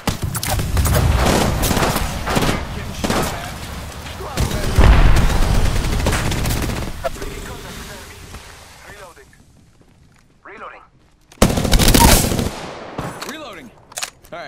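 Gunfire in the Apex Legends video game, played as Mirage, rattles out in dense rapid bursts for several seconds, then a quieter gap before another loud volley, mixed with game effects and occasional voice lines.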